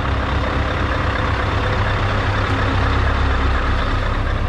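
A Scania 770 V8 truck engine runs at a steady, deep idle, a dense, loud rumble that holds constant throughout with no voices over it.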